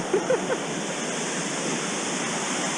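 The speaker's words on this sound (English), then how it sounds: "Don't fall off this waterfall, kids." Wallace Falls roars in a constant broadband rush, with a few faint brief sounds near the start.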